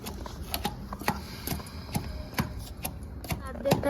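Fried spices and chillies are crushed by hand in an irregular series of sharp pounding knocks and taps, fairly faint and close, with no talk over them.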